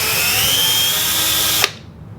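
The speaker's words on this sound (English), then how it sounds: "You want to start hitting your small holes with the pilot drill bit" A pilot drill bit whines steadily at close range while boring small holes into a skate boot for mounting soulplates, then stops abruptly near the end, leaving quiet room tone.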